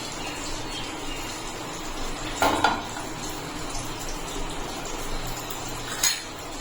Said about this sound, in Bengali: তেলটাকে ভালো করে চারিদিকে লাগিয়ে নেব।